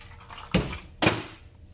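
Two separate splashes of water poured in, each a sharp burst that trails off, about half a second apart, fairly close in a quiet room.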